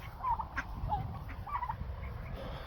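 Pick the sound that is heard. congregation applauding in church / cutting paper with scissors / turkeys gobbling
turkeys gobbling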